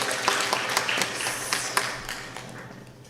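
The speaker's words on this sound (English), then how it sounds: "So if you can just give a big round of applause to Polaris." An audience claps in a dense round of applause, close and fairly loud, with scattered sharper claps standing out before the sound gradually thins and fades.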